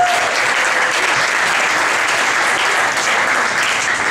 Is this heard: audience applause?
yes